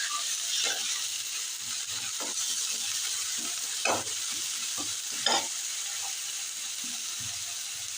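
Chili and ginger paste with onion paste fries in oil for a fish egg curry, a constant close sizzle broken by intermittent spatula scrapes and taps against the pan.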